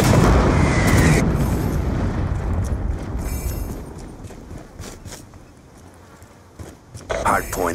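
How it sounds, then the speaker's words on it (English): A Hellstorm missile strike explodes in Call of Duty Black Ops 2, starting with a loud booming blast that fades into a long rumbling tail, with voices over it. "Hellstorm missile inbound."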